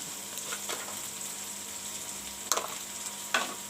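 Spices and peas frying in a pan over a low flame, a steady soft sizzle broken by a few sharp stirring scrapes, close-up with no voices.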